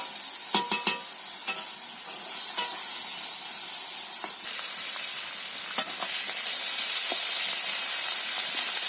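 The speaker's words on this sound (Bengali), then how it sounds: "শুক্তির সাথে কাঁচামরিচ, পেঁয়াজ এগুলো দিয়ে দিলাম। এগুলো ভালো করে আগে ভেজে নেব।" Dried sea fish frying with green chillies and onion in a pan, a continuous bright sizzle and hiss with scattered clicks of a spatula stirring, close and loud.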